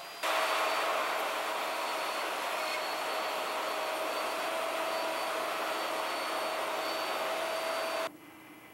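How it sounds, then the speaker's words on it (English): A router cuts tenons in wood on a Leigh router joinery jig, giving one loud, steady motor whine that runs without a break for about eight seconds before cutting off. "When finished, move the table to the right to route the right tenon."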